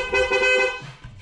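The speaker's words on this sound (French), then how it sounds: "Et là, normalement on a récupéré le klaxon." Horn of a Volkswagen Cross Polo sounding in a single steady honk that lasts most of the second, loud and close, then cutting off into quiet garage noise.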